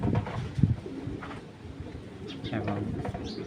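White saddle racing pigeon, an unpaired bird, cooing in a few soft low calls close by, with people talking around it.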